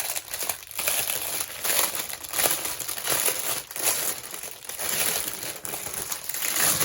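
Continuous crinkling and crumpling of a plastic bag close to the microphone, rustling in uneven bursts without pause.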